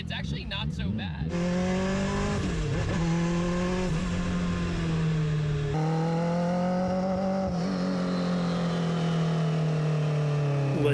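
A car engine idles and revs while warming up to temperature, its steady drone rising and falling in pitch near the microphone, with a few sharp bursts at the start.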